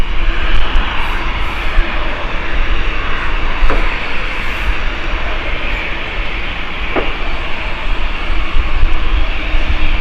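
A Punta Cana-bound airliner, flight 2E787, takes off at Gatwick Airport with a sustained, loud engine roar that stays steady from start to finish.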